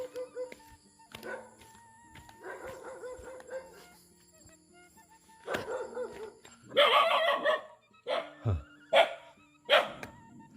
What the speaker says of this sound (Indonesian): Kita disambut dengan gonggongan anjing ya